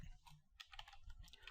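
Keys on a computer keyboard clatter in a short, quick run of taps, close and quiet, with no voice.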